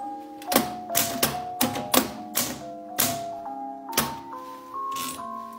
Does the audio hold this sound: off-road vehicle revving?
no